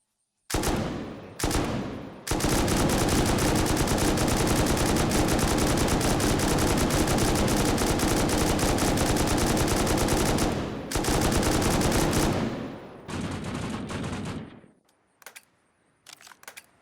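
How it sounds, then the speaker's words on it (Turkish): Sustained automatic rifle fire from a full magazine during a base raid in a survival video game, loud and rapid, running in long continuous bursts with brief gaps and ending in a few isolated shots. "Ben bir şarjör sıkıyorum abi."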